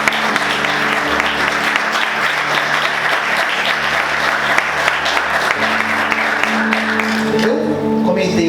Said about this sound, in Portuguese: Vamos aplaudir Jesus com bastante alegria.